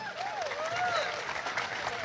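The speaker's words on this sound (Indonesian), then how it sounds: "Teman-teman, tepuk tangan dong." An audience claps at a university gathering in Indonesia, steady applause running throughout with faint tonal sounds over it.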